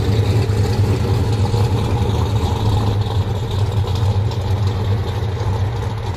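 A 1969 Chevy Chevelle SS 396 V8 rumbles loud and close, its deep steady idle throbbing on without a break and with no voices over it.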